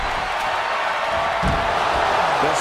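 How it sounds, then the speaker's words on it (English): Wrestling arena crowd in the WWE 2K24 video game, a dense continuous roar of cheering that swells slightly near the end, loud and steady throughout with no clear speech. "sound of this crowd is deafening, and he's asking for more."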